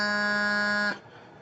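A bagpipe sounds a single sustained low G, a bright reedy buzzing tone held for about a second before cutting off abruptly, close and alone.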